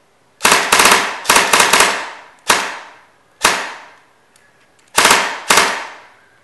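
A JLS Beretta RX4 Storm airsoft gun with an upgraded gearbox fires loud, sharp shots in quick bursts and single pops, each with a short ringing decay, and there is no talk.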